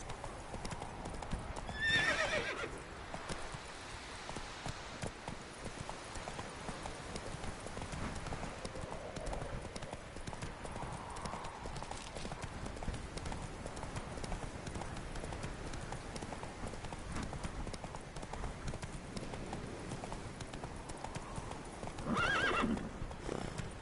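Roach the horse in The Witcher 3, hooves clip-clopping in a steady galloping rhythm at moderate distance, with whinnying neighs breaking out near the start and again near the end.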